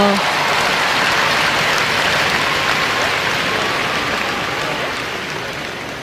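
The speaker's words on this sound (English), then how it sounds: "I want to give him a round of applause" Dense, loud audience applause at an evening event in Seoul, a continuous roar of many hands that stays strong throughout and eases slightly toward the end.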